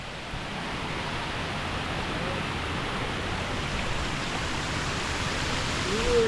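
Rushing water heard as a loud, steady broadband roar that fills the whole clip with no breaks and no voices.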